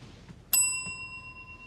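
A small bell is dinged once, ringing out bright and clear, then decaying over about a second against quiet room noise.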